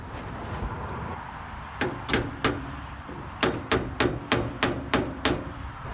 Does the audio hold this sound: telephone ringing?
no